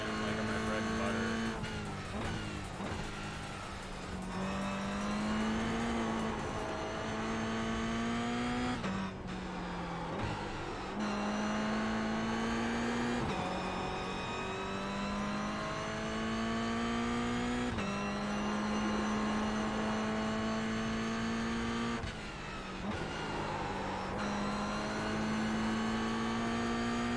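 Race car engine in an iRacing sim race, D-class, droning loudly and steadily throughout with repeated revs rising and dropping through gear shifts and corners, tires squealing at moments, with faint talk underneath.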